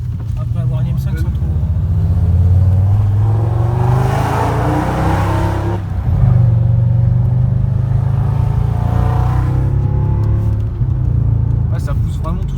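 A supercharged BMW M5 E60 V10 engine pulls hard under acceleration at around 2,000–3,000 rpm, heard from inside the cabin as a deep droning rumble rising in pitch, with voices talking over it.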